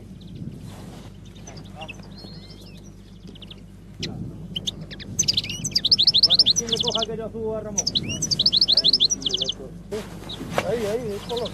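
Goldfinches in their peak singing season send out bursts of rapid, twittering song in repeated phrases. The song comes over a low background rumble, and someone speaks at the same time.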